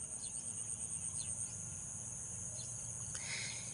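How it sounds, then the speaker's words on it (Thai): Evening insects trill steadily in a rural Thai village, a continuous high chorus with a few faint chirps, calm and fairly quiet. "ฟัง เสียงเขียด เสียง กบ เสียงแม่งห้อง จะได้รู้สึกว่าเออเจ้าของอยู่บ้าน"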